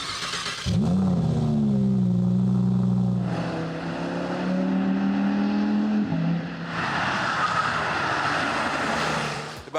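An Audi R8 petrol sports car on a racing circuit roars loudly as it accelerates, its engine pitch sweeping upward, dipping at a gear change, then surging again in a bright, rasping rush, with no voices.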